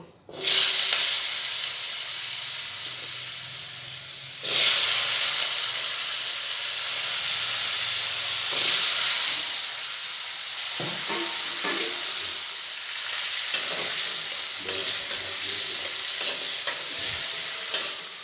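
Washed, cut potatoes hit a hot pan with turmeric in oil, bursting into loud hissing sizzles that settle into a steady fry, followed later by sharp spatula scrapes and taps; no talking.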